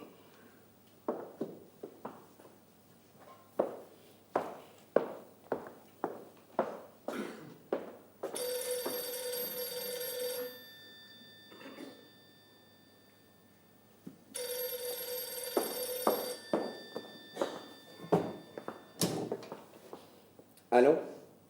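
An old-style telephone bell rings in two long, bright bursts on a theatre stage, with footsteps and knocking handling sounds before and between the rings.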